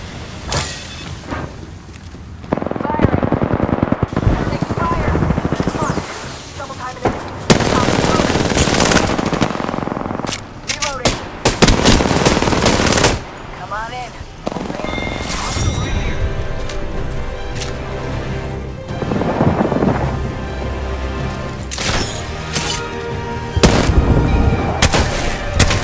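Rapid automatic gunfire and heavy bursts from Apex Legends, a first-person shooter, blaze loudly through a ranked match, with repeated sustained volleys, booms, and short pauses, alongside occasional character voice lines.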